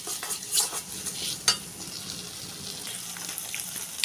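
Spices stir-fried in oil in a pan while cooking a fish roe dish: a soft continuous sizzle with intermittent scraping and stirring clatters from a utensil, fairly close and quiet.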